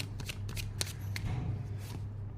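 A deck of tarot cards is shuffled close by in soft, quick riffles over a low steady hum, with no talking.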